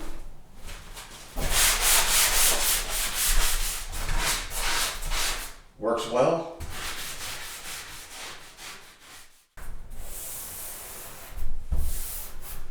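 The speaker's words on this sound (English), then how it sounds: "get yourself a drywall sanding sponge" Steady, rhythmic scratchy sanding strokes of a drywall sanding sponge rubbing back and forth on a fiberglass tub surround, pausing briefly with a few words spoken partway through, then resuming.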